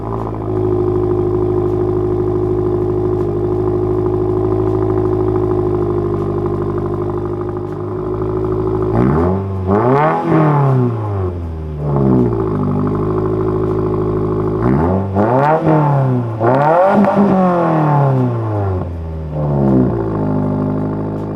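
A 2022 VB Subaru WRX fitted with an EOS aftermarket exhaust idles steadily and loudly, then gets blipped several times, the engine note sweeping up and dropping back in repeated rev bursts, close and with no talking.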